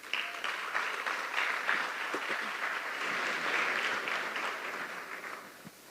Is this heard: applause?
yes